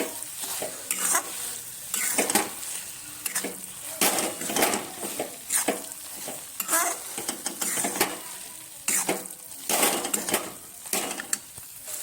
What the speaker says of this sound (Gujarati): હવે ઉપર થોડા આપણે ડ્રાયફ્રૂટ એડ કરીશું. શેકાવા દઈશું.